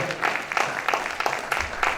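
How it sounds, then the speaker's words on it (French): Audience applause at an evangelical conference, a brief round of rhythmic clapping from a crowd in a hall, moderately loud and steady. "Applaudissez India Emile, s'il vous plaît."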